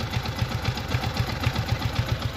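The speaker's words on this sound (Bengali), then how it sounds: "তো বন্ধুরা বাইকটির হালকা স্মুথ সাউন্ড শুনুন" Yamaha M15 motorcycle engine idling smoothly, a steady low rhythmic putter with even pulses, close and moderately loud, no talking.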